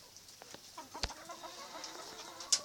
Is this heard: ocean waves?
no